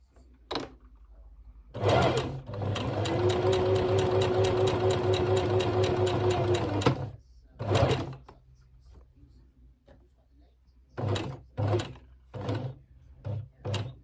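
A sewing machine stitches the pocket of a small polka dot doll dress, running in one long steady burst, then in short separate bursts with pauses between them. The sound is close and loud, with no talking over it.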